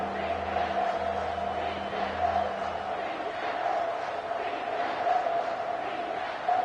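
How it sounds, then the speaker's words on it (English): Football stadium crowd roaring steadily to rally the home defense before a red zone stop, a dense, continuous wash of massed voices with a low sustained tone running under it throughout. "This crowd is trying to inspire this defense to make a big red zone stop."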